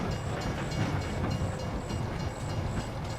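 A train rolls past in the farming video game Farming Simulator 25, a steady rumbling rail noise with rhythmic clacking and faint repeating high tones throughout.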